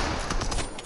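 Rapid gunfire bursts in the Fortnite video game during a Dutch cup match, loud and dense with repeated broadband shots across the whole second, crowded and mixed with game sounds.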